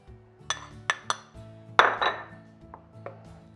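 Banana bread batter with spices and baking powder being stirred in a bowl: a spoon knocks and clinks against the bowl in several sharp taps, with a louder scraping clatter near the middle, close by and with no talk.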